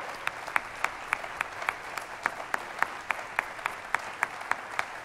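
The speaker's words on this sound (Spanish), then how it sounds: "Un fuerte aplauso" At a concert, audience clapping is faint and distant, heard as a regular series of single sharp claps, about three per second, over a soft background hiss.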